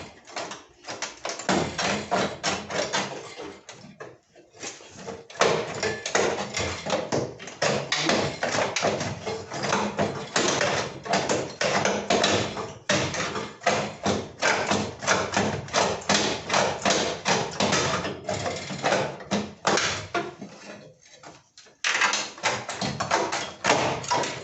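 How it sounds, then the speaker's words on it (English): Cut sheet metal of an EG hatchback's rear quarter panel bent back and forth to snap it free, giving a dense, continuous run of metallic thumps, flexing clanks and creaks, close and loud throughout with a few brief pauses. "just by bending it a couple times, it should break loose."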